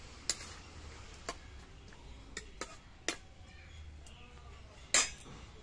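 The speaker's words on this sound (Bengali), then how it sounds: "এবার নুন দিয়ে আমি লাউটা বেশ ভালো করে মিশিয়ে নিচ্ছি।" Bottle gourd is stirred with salt in a pot, giving sparse, quiet clinks and taps of a utensil against the metal at irregular intervals, with one sharper knock near the end.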